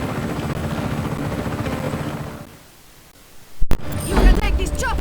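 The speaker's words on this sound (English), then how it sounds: "You can take this chopper, Fratre." A helicopter in Just Cause 3 roars loudly with steady rotor noise, fades into a brief lull, then returns after a sharp burst of game sound.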